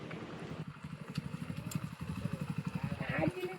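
A motorcycle engine pulls away nearby with a steady, throbbing putter that builds over a few seconds, while people chat in the background.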